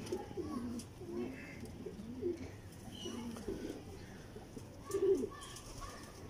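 Homing pigeons of the 'school wale' breed coo softly in a loft, low rolling calls repeating through the clip with a stronger burst near the end over faint background noise.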